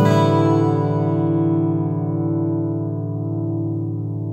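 A cheap pink plastic toy guitar from Home Bargains has its open strings strummed once, ringing out as a sustained, reasonably in-tune chord that slowly fades over several seconds.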